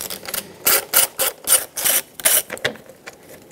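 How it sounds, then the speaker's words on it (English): Someone loosens the 8 mm screws on the air filter box of a 2003-2007 Honda Accord with a ratchet, producing a run of quick ratcheting clicks in short bursts, close and clear, with no talking. "let's remove the 4 8-millimeter headed screws that hold the top of the airbox down onto the bottom"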